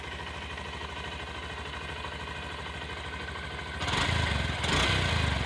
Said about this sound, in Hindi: एक बार मैं आपको बाइक का जो एग्जॉस्ट नोट है वो सुना देता हूँ।